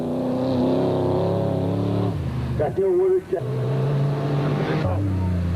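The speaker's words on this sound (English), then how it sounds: "but it was Woolridge and Skuldhammer who stormed into view in the American-built Ford Ranger, which is fitted with a 5-litre V8 engine" A loud engine roars and shifts pitch as a Ford Ranger pickup with a 5-litre V8 accelerates and races past in a 2001 off-road rally, while someone talks over it.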